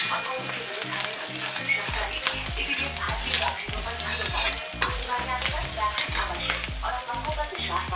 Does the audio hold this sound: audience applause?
no